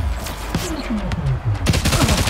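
Gunfire in the video game Showgunners: a quick burst of rapid shots mixed with game effects and a voice talking under and around it, loud and close.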